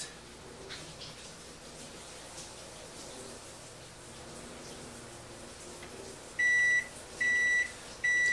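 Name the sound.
microwave beeping when timer ends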